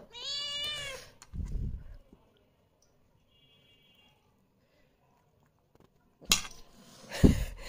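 A brief cat meow at the start, followed by a soft thud, a long quiet stretch, and some clattering toward the end.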